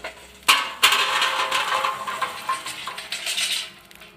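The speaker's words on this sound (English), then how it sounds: "I'm just going to go ahead and dump them in the Slow and Sear" Burning charcoal briquettes tumble from a chimney into a Slow 'N Sear insert in a Weber kettle grill, a sharp metallic clatter and rattle followed by several seconds of lighter scraping and clinking, close and fairly loud.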